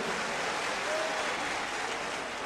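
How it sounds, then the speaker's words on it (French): Convention delegates in a hall applauding themselves at a party convention in Guinea, a dense, steady wash of clapping from a large crowd throughout. "je vous prie de vous applaudir vous-même, Mesdames et Messieurs."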